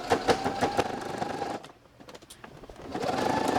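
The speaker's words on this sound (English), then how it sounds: "So we're going to sew across this side" Sewing machine stitching across a seam of fabric for a key fob keychain, with a rapid, close mechanical whir that pauses briefly partway through and then starts up again.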